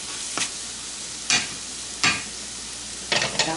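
Eggs fry in a hot oiled pan, with four short bursts of sizzling and spatter standing out against a quiet background hiss, close and fairly soft.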